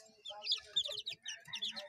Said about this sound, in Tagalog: Papakita ko sa inyo yung mga sisiw ko pala. Ito ay 1 month pa lang.